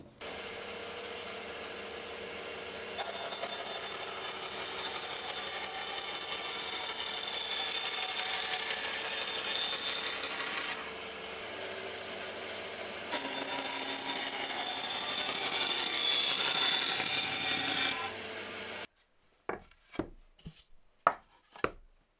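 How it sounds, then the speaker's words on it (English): Power saw cutting wood into square blanks for display stools, a loud steady whine with two sustained cuts of about eight and six seconds, then a few sharp knocks of wood being set down as it stops. "first I'm going to cut them into square blanks"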